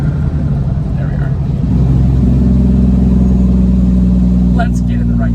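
Hopper bottom semi truck engine rumbling loud and steady from the cab on a winter highway, the drone dropping then settling into a deeper, fuller tone partway through as it shifts into gear.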